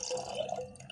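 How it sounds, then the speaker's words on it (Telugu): Boiled and cooled milk pours into sago payasam, a soft, close liquid trickle with faint gurgling lasting about a second. "ఇప్పుడు నేను కాచి చల్లార్చిన పాలని పోస్తున్నానండి"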